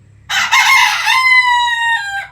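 A rooster gives one loud, close crow on a poultry farm with chickens. The call rises into a long, drawn-out, wavering note and ends abruptly.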